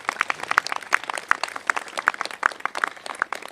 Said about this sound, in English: we want to give them a big round of applause because they're working hard and they're volunteers for all of us